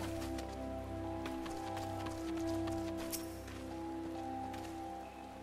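Soft, steady rainfall in the Final Fantasy XIV video game, faint and continuous over a low sustained ambient hum, with no speech.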